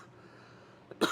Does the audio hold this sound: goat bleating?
no